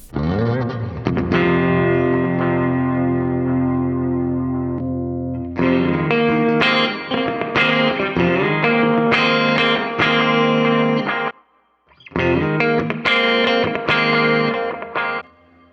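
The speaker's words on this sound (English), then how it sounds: "let's add some reverb here." Electric guitar through a GE250 reverb effect plays sustained chords and melodic lines with a washy, spacious tail, lingering ringing notes, loud and continuous with a brief pause near the end.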